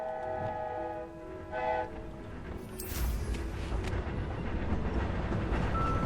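A train in the video game Hogwarts Legacy sounds its whistle, then rumbles past with a rising rush of rolling noise and rail clatter that stays loud to the end.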